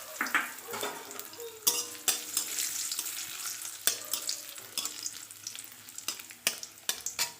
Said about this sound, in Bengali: কাজু আর কিশমিশ ভেজে নেব একটু